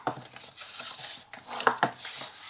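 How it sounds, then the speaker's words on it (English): Card stock being folded along score lines and burnished flat for a cabin-style gift box lid, giving a few close, soft scraping and crinkling rubs with brief taps between them. "Fold and burnish your score lines"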